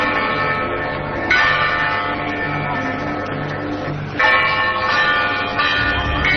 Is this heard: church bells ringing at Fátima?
yes